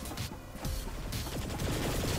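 The crap cannon in the video game Saints Row: The Third, firing in rapid, rattling bursts that build into a loud, continuous barrage with a heavy low-end thump.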